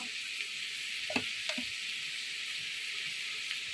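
Ginger paste sizzles in a pan while it is stirred, a steady frying hiss with a few soft scraping strokes close by and no voices.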